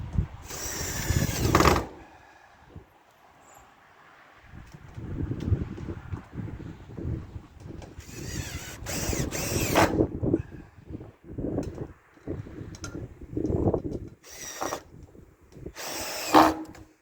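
Cordless drill driving screws into pre-drilled holes on a tractor garage roof at a cabin: repeated short whirring bursts with pauses between, outdoors amid wind noise and scattered knocks.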